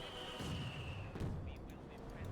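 Field gun artillery fire in Company of Heroes 2, a World War II strategy game: a couple of dull booming blasts mixed into busy battle noise, with a commentator talking over the top.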